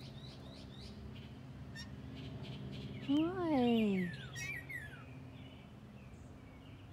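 A gray catbird mimics a cat's mewing call in a backyard, one clear slurred descending call followed by short higher chirps, fairly close, with a person speaking softly nearby.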